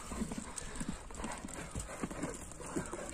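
A blue-grey horse for sale clip-clops on hard ground, its hooves striking in a steady, uneven rhythm of close, distinct knocks throughout.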